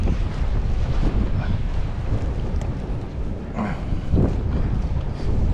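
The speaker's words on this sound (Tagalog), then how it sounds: "saka naman lumakas yung hangin" Strong wind buffets the microphone steadily near open water on a fishing trip, a loud continuous roar with gusts and no talking.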